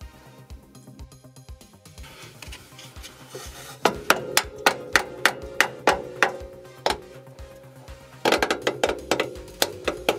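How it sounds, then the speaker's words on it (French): A small plastic-tipped hammer taps bolts out of a Mercedes W124 during shock absorber work, after some scraping. It strikes in two runs of sharp, evenly spaced knocks, close and loud, with no talk. "Avec un petit marteau, ça ira très bien, avec un embout plastique bien sûr pour pas abîmer les filetages."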